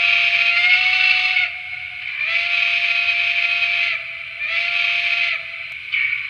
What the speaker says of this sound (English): let's check out the whistle first